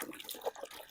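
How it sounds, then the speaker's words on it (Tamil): Ash gourd being washed under running tap water gives a brief, faint splashing trickle in a kitchen. "தண்ணி கூடுதலாக வச்சு கழுவு."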